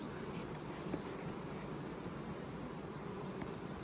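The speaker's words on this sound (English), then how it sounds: "Nice box of bees." A box of honey bees gives off a steady, faint buzzing hum that stays even throughout, with a few slightly louder moments.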